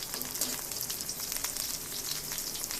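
Pabda fish and vegetables fry in a medium amount of hot oil with green chili and ginger, giving a steady, close hissing sizzle that crackles evenly throughout with no talking.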